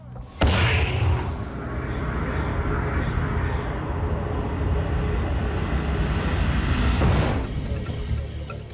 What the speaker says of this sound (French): Nous allons faire sauter la charge explosive, envoyer le baril en l'air